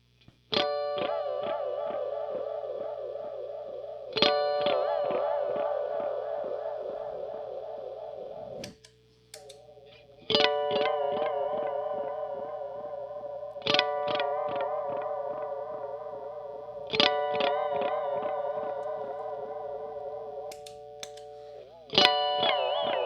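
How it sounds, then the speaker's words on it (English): Electric guitar chords through a Deluxe Memory Man pedal with chorus modulation at maximum ring out with a deep, wobbling chorus warble, each strum swelling and shimmering in a clear repeating pattern, no voices. "what the chorus modulation sounds like cranked all the way up"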